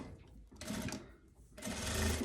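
A sewing machine stitches a seam on a loose blouse in two quick bursts of fast, even mechanical whirring, moderately quiet, with no speech.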